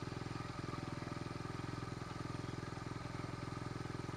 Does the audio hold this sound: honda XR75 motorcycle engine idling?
yes